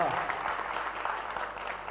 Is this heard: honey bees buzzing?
no